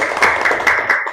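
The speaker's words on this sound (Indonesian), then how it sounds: "Ya, oke, tepuk tangan." An audience claps together in a classroom, a steady burst of applause lasting about a second at close range with no voices over it.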